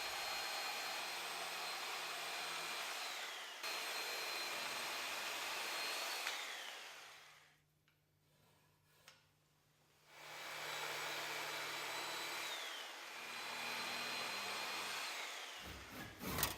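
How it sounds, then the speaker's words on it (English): Reciprocating saw cutting through a wooden post for a raised garden bed, with a loud buzzing motor and rapid blade chatter in long runs, a quiet pause in the middle, then another sustained cut. "Cut along these lines using a reciprocating saw."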